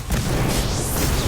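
Confringo blasting spell explosion from the Harry Potter: Magic Awakened video game, a loud, sustained booming burst with crackling rumble filling the whole moment, no talk over it.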